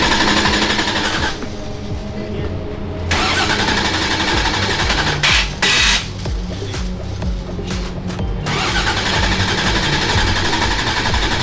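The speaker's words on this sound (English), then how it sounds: "Go turn the ignition on." A Formula Drift car engine at Long Beach, after a crash, cranks and sputters in rough, rapid bursts, briefly dropping out a few times, then roars steadily, close by.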